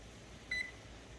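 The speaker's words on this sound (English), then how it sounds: "So just set your timer on 3 minutes" A single short, clear electronic beep from a kitchen timer being set for boiling sugar, heard alone over a quiet room hum.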